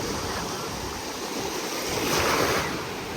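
Sea waves wash onto a beach at Boqana in Nador, a continuous broad surf roar that swells louder midway, with wind buffeting the microphone and faint voices in the distance.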